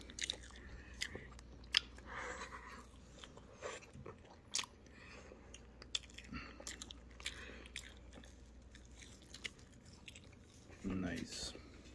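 Eating during a mukbang show, with close, irregular wet chewing and crisp bites scattered over a quiet room and a few soft voice sounds.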